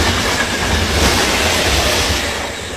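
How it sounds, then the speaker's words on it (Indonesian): A speeding train in an anime scene roars past loud and close, a dense rushing rumble of wheels on rails that holds steady and then eases slightly at the end. "menghilang di balik cepatnya laju kereta"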